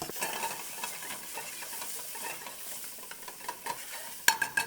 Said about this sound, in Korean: 어느 정도 양파가 투명하게 벗겨지면요, 그 다음 남은 감자를 넣어줍니다